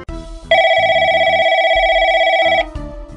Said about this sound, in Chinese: 喂，阿俊，有电话啊，